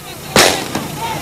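Gunshots ring out during a violent farm invasion clash in Brazil: one loud, sharp crack followed by a fainter second shot, with echoing tails across open ground and no talk.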